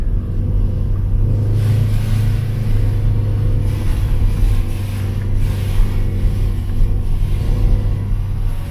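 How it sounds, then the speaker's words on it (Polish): Car labouring up a steep slope in first gear on a road near Drobni Pijesak beach in Montenegro, with tyres slipping; a steady loud low engine drone and rumble continues throughout with no talk. "Samochód nawet na jedynce tak średnio chce wjechać. Troszkę się opony ślizgają."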